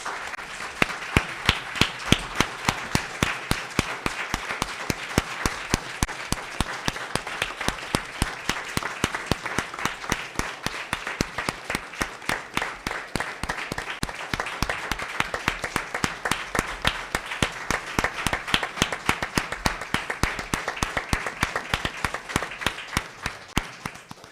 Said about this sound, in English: giving a round of applause for the lives of Miss Trendy Spires and Coach Clyde Riggins with a loud,